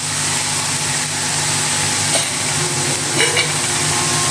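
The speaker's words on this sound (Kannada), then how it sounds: "ಹಸಿ ವಾಸ ಹೋಗೋ ತನಕ ಹುರ್ಕೋಬೇಕು ರೀ" Green chillies and garlic frying in a pan, a steady broad sizzle running throughout with a few brief stirring scrapes, fairly loud and close with no voices.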